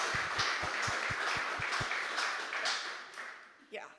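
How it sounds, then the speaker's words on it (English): A conference crowd applauds for its sponsors at Cloud Native Rejekts EU 24, a steady wash of clapping with a soft rhythmic thump underneath during the first half. The clapping fades toward the end. "So a huge round of applause to our sponsors."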